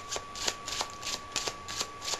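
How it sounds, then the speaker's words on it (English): A deck of playing cards is given a stacking shuffle, with repeated crisp riffling bursts in a steady rhythm, close and clear, over a faint constant hum. "and the stacking shuffle looked like this."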